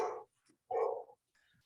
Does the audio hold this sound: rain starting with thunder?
no